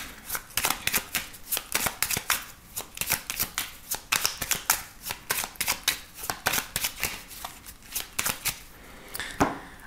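A 32-card playing deck being shuffled by hand, a brisk series of papery riffles and slaps repeating rhythmically, close and clear with no talking.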